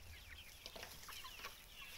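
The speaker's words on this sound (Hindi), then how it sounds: "देखिए दोस्तों मुर्गियाँ कैसे उड़ रही हैं सब।" Free-range desi chickens cluck and flap on an open farm, with quick wing beats and scattered clucks close by over a steady low outdoor rumble.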